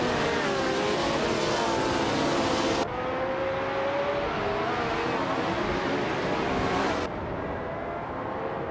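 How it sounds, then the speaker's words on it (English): Race car engines roar and rev together at the start of a video game race at Automotodrom Grobnik, the pole car a 1967 Ferrari 312 GTC, a loud continuous multi-engine drone with shifting pitch and no talk. "the race just kicked off at Automatodrome Grobny"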